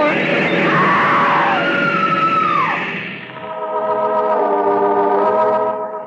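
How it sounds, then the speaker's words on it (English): In an old-time radio suspense drama, a woman lets out a long, loud, piercing scream that wavers and rises, followed by a second sustained shriek, filling the whole stretch alone. "The woman screams."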